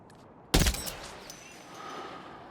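Gunfire in the Death Stranding 2 video game: a sudden loud burst of shots after a short quiet stretch, followed by a ringing, echoing tail that fades slowly.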